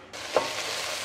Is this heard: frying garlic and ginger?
yes